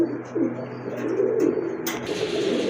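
A Tanga-necked pigeon coos softly in a few low, throaty phrases close by, with no talk over it.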